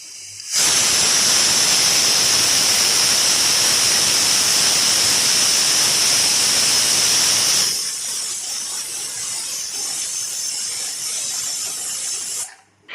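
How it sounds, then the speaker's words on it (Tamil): A pressure cooker hisses loudly and steadily as steam escapes while mutton rogan josh cooks, then the sound drops to a softer rushing hiss before cutting off near the end. "மூணு விசில் வந்துடுச்சு."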